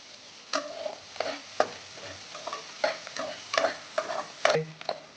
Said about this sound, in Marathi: चांगला परतून घेऊया थोडं मीठ टाकत आहे लवकर कांदा फ्राय होतो